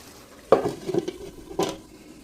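A spoon stirs prawn bhuna sizzling in a pan, with two distinct scraping strokes over a soft frying hiss, close and fairly quiet, no talking.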